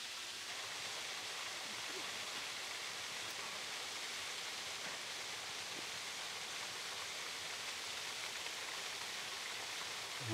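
A waterfall in the Knuckles Mountains of Sri Lanka roars as a steady, dense wash of falling water, constant and close throughout with no letup.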